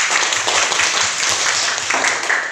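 A classroom group of children clapping together in a rhythmic cheer, dense and close, steady throughout with no talking over it.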